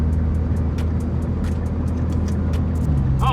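A Nissan GTR accelerates hard through its gears, a loud, close engine roar holding steady with a brief shift change near the end.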